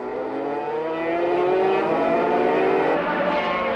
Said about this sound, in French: Garriga est au meilleur de sa forme, menant sa Yamaha en tête devant Sarron sur sa Honda Rothmans